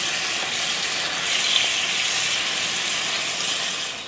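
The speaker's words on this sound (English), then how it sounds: "We have been sauteing down our mixture here of mushroom, garlic, ginger, scallion in some sesame oil." Mushroom, garlic, ginger and scallion sizzle in sesame oil in a pan, a steady bright frying hiss that holds evenly throughout without talking.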